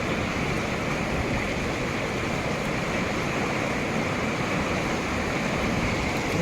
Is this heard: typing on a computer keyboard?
no